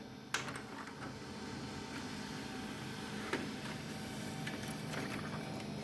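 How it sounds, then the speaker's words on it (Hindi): Laser printer running a test page with a Proffisy 88A toner cartridge, a quiet mechanical whir with a few soft clicks and feed knocks, fairly faint. "अभी प्रिंट आउट हो रहा है"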